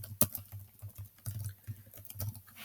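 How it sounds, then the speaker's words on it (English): Fingers type on a computer keyboard in a quick, uneven patter of soft clicks with a few sharper taps, close and fairly quiet, with no voices. "then you're going to type out your response"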